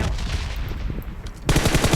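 Loud, rapid automatic gunfire in the shooter game PUBG Mobile, with a steady stream of close shots that grows denser and louder toward the end.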